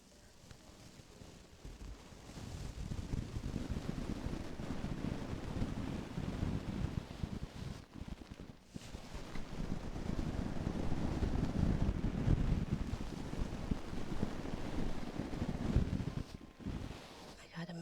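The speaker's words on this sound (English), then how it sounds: "It's getting windy, chat." Steady wind buffeting a microphone outdoors, a continuous low roar with gusts that swell and ease over the span, briefly dropping out twice.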